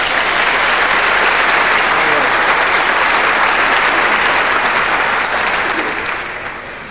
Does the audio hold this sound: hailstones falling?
no